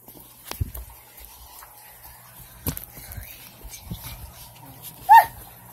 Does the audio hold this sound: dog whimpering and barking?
yes